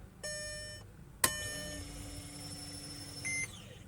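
Mercedes warning chime after the ignition is switched on: a short run of bright electronic tones, a click, then a longer sustained chime, quiet and close inside the car.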